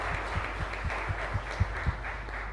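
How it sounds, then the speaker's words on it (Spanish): Congregation applauding during a Catholic Mass in a chapel, a fairly faint, reverberant patter of clapping with a few louder individual claps, heard at a distance. "un fuerte aplauso para ellos"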